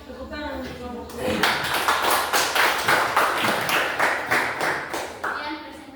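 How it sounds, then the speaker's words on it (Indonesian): Classroom audience claps for a student presentation group, a sharp burst of rhythmic hand claps after brief speech, lively and close, fading out after several seconds. "Tepuk tangan untuk kelompok 2."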